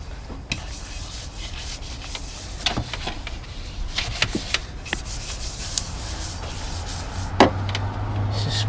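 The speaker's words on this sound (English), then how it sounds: "Just scrub it in there." A brush scrubs hard over the grimy engine bay of a BMW E38, giving a steady close-up rubbing and scraping with short sharp strokes and a low rumble near the end.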